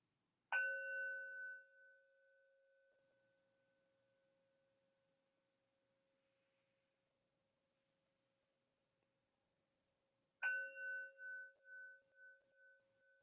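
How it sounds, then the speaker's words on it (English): A meditation bell struck once, ringing with a clear sustained tone that slowly fades to near silence, then struck again near the end with a wavering, pulsing ring. "Hearing the bell."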